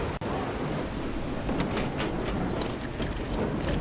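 Steady rain and low thunder rumble in the video game Metro Exodus, a continuous wash of rainfall with dull rolling thunder underneath and a few brief brighter spatters, with no talk.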